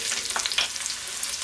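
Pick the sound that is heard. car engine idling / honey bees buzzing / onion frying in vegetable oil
onion frying in vegetable oil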